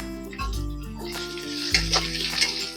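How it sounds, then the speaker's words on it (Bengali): Chopped onion and garlic frying in hot oil in a pan, a steady close hiss and sizzle that keeps going, with a few small clinks over it. "একটা পেঁয়াজ কুচি দিয়ে দেবো। পেঁয়াজটাও লাল করে ভেজে নেব।"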